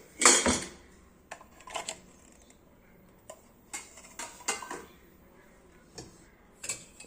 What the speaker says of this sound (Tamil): இது வந்து சில்வர் குக்கர் மூடி அப்படி நம்ம இதோட வச்சுட்டோம்.